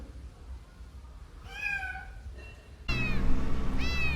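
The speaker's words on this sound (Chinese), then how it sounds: "今天一大早就听见楼下一直不停的有猫叫" A tiny kitten meows in a backyard at dawn, a couple of thin drawn-out cries heard alone, the second one louder and closer.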